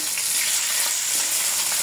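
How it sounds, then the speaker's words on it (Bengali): Pieces of a large katla fish fry in hot white oil in a wok, a loud, dense, continuous sizzle and crackle heard close up with no voices. "তেল দিয়ে দিলাম, সাদা তেল গরম হয়ে গেছে, মাছ দিয়ে দেবো"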